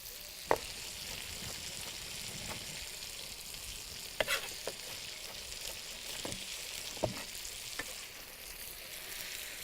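Sweet red pepper sizzles as it fries in a hot pan, a dense, even hiss with a few sharp pops and utensil clicks scattered throughout, close and steady with no talking.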